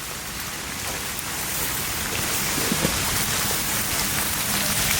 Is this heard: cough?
no